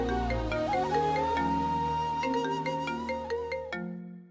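A mobile phone ringtone plays a clear melodic tune of sustained tones and short notes for about four seconds, then cuts off, loud and alone in an indoor scene.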